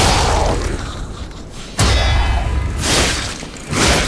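A loud booming explosion in the game Lies of P bursts out after a rushing whoosh, followed by rumbling debris and a second surge of noise.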